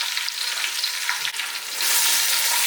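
Garlic, mustard seeds and curry leaves frying in hot oil, a dense steady sizzle that swells louder near the end, with no talk.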